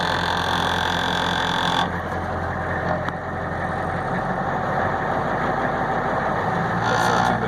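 An International truck's MaxxForce diesel engine idles after sitting parked in the woods for six years, a loud, steady, even rumble with a brief higher whine near the start and end.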